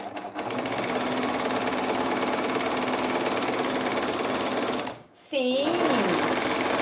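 A new sewing machine runs steadily while a women's tank top is sewn, a continuous loud mechanical whir that stops briefly near the end, followed by a voice speaking.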